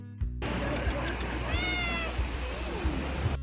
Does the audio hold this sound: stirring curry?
no